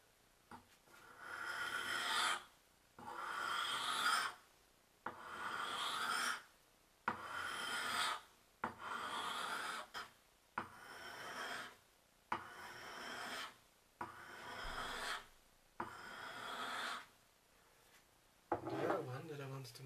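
An old axe blade is worked over a finer-grit sharpening stone in about ten even rasping strokes, each roughly a second long, with short pauses between them; the sound is close and fairly loud, and the clip ends with a brief clatter.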